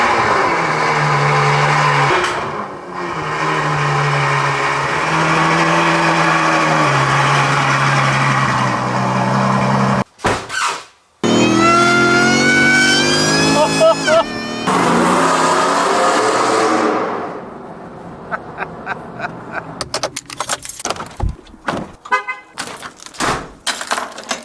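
A Ford F-150 with a Borla Attack exhaust and catalytic converters runs loud and steady, then climbs through a few rising revs before cutting to sharp, choppy bursts and short gaps near the end.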